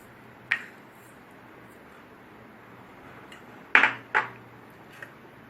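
Jaggery being mixed into cooked raw mango pulp in a dish, heard as a few sharp scraping clinks of a utensil against the bowl, spaced apart with quiet between them.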